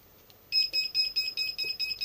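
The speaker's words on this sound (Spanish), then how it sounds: "si esa corriente que yo he programado aquí se supera, saltará una alarma y desconectará la alimentación" A TopShak LW 3010EC lab power supply sounds its overcurrent protection alarm after a bulb load exceeds 3 amps, a loud, steady run of rapid, evenly spaced electronic beeps starting after a short quiet moment.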